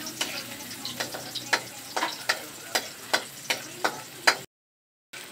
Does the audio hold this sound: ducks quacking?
no